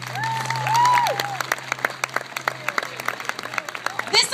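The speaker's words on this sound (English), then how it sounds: "Let's give a round of applause" Applause at an award ceremony for an early-detection advocate, beginning under a voice and sustained tone, then breaking into distinct sharp claps from a modest crowd, close and fairly loud, with a brief voice again at the end.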